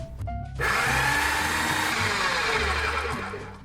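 A food processor blade whirs steadily as it chops walnuts and garlic cloves, a loud continuous grinding roar that starts after a brief pause and runs on without a break.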